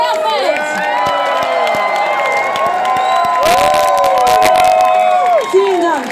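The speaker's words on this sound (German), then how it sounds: "einen großen Applaus an die wunderbare und fantastische Ela Querfeld." A large crowd at a Pride (CSD) event in Munich cheers and whoops loudly, with shouting and clapping building into a burst of applause near the end.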